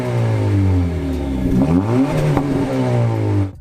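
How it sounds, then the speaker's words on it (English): A 2022 Honda Civic Si exhaust rises and falls through a quick rev, the engine note climbing then dropping back before cutting off, close and loud with no talk. "the tailpipes will create a loop right before exiting the rear bumper, which Honda says greatly improves the sound"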